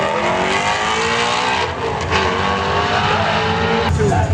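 A Dodge Hellcat's tires spin at a drag strip, the engine roaring hard with squealing rubber, loud and close for a few seconds.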